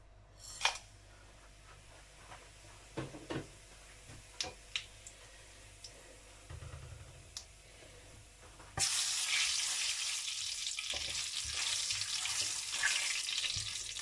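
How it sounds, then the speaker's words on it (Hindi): Cumin, black cardamom, cinnamon and black peppercorns are dropped into hot oil for a mutton karahi. Quiet clatter and knocks come first, then a sudden loud, steady crackling sizzle that runs to the end. "अब हम इसके अंदर थोड़ा सा ज़ीरा और एक मोटी इलायची और एक जो है दालचीनी और कुछ जो काली मिर्चें ये डाल के थोड़ा सा भूनते हैं"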